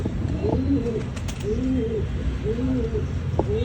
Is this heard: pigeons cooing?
yes